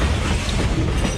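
A southbound freight train passing near Albina Yard in North Portland, a dense, loud, continuous rumble and rattle of rolling wagons throughout the short moment.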